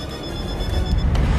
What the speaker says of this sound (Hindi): अलार्म बज रहा था मेरे कान के पास।